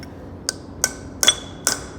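A heavy hammer strikes a chisel to knock loose a corroded piston, four sharp metallic rings spaced roughly every half second, close and clear over a quiet background with no talking.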